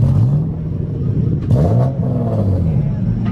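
Corvette engine at a car meet, revving loudly up close with rising and falling engine pitch across several throttle blips, while people talk over it.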